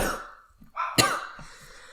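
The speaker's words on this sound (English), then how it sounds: "3-week cough." A single sharp cough from a person with a lingering three-week cough, preceded by a throaty breath and followed by a short exhale, close and fairly loud in a quiet room.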